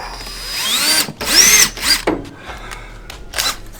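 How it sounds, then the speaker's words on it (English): A power drill drives bolts to refit a C5 Corvette bumper, with loud, close bursts of whirring that rise and fall in pitch and short stops between spins, and nobody talking. "So let me get the bumper kind of bolted back and then I'll cut it"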